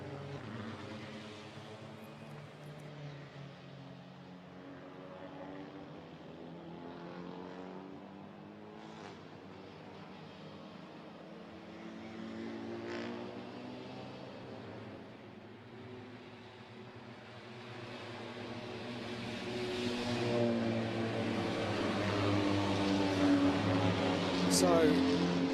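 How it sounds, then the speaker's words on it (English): TCR China touring cars file behind a BMW safety car at the 2020 Macau Grand Prix, their engines droning steadily and swelling louder toward the end beneath continuous commentary. "the BMW safety car leads the field of TCR China cars"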